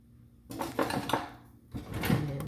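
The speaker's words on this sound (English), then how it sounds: "I need to remove with a slotted spoon" A slotted metal spoon scrapes and clanks against a cooking pot in a few quick scoops as fried aromatics are lifted out, close and moderately quiet.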